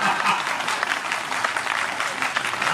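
An audience claps continuously, a broad crackling wash of many hands at fairly even loudness for a few seconds, with faint voices mixed in.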